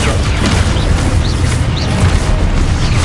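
An Expulso explosion spell in Hogwarts Legacy goes off as a dense, loud roaring blast that fills the whole moment. Rumbling debris and crackling bursts continue without pause and there is no talk.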